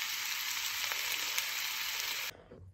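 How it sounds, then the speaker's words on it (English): Food frying in a pan in a home kitchen, a loud, steady broadband sizzle that runs continuously and then cuts off near the end. "I'm frying this now"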